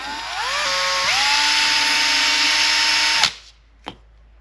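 A power tool spins a fine number 6 scouring pad, about 4,000 grit, against a restored Tamiya Porsche 934 R/C car's chassis parts to clear off gunk. A loud, close whine rises in pitch, holds about three seconds, then cuts off, followed by a single light knock.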